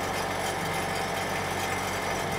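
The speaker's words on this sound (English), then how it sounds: "it sort of sounds a little more like an exhaust rattle to me" A used car's engine idles steadily with a continuous low rumble and a faint buzzing exhaust rattle underneath, close by and without talk.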